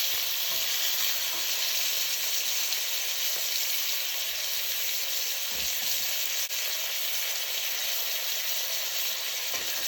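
Lamb searing in a hot pan gives a continuous, even, close-up sizzle and crackle for the whole stretch, with no talking and only a faint stray tap near the end.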